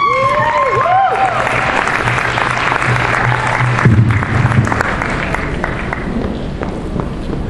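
Audience applause at an Iranian students' Shab-e Yalda celebration rises into a broad, steady clatter of many hands, while swooping synthesized music tones and a low hum sound alongside it from start to finish.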